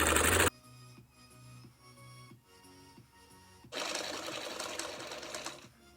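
A sewing machine runs in a rapid mechanical stitching rhythm, pausing briefly before speeding up louder, with a short burst of noise at the start.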